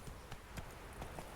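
Horse hooves in The Witcher 3 video game, a quick series of four or five soft thuds at an uneven galloping rhythm, faint and low in level.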